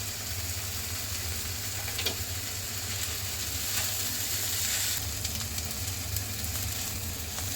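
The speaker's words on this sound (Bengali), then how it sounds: "পোলাও চালগুলি ভাজা হয়ে গিয়েছে।" Chinigura pulao rice for a prawn pulao fries in a spiced oil mixture, a steady close sizzle with faint occasional stirring scrapes and no talking.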